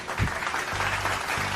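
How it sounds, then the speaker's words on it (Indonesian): Applause from a school class audience after a debate team's closing statement, a steady burst of clapping filling the whole moment with a brief louder swell near the start. "tepuk tangan yang meriah"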